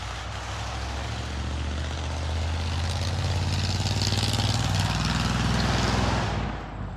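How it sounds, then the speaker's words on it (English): Trucks without exhaust systems passing on a highway near a garden, a loud continuous engine roar that swells and then fades away near the end. "That's the highway with trucks that don't have exhaust systems."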